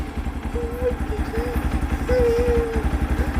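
A motorcycle engine idles nearby with a steady, low, rhythmic throb, while a voice sounds briefly over it.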